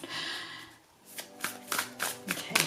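Oracle cards being shuffled in quick riffling bursts, close up, several rapid shuffles in a row.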